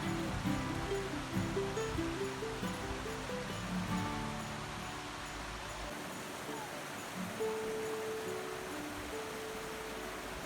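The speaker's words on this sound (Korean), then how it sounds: "계곡에서 흘러내려가는 물소리" Mountain stream water flows down a valley along the Odaesan Seonjae trail, a continuous soft rushing wash with a faint melodic tone drifting over it in the first half.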